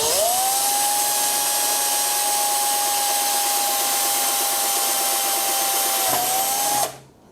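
A power drill widens a hole in a race navigator mount, a loud, close, steady high whine running for several seconds with a slight pitch dip near the end before it stops abruptly.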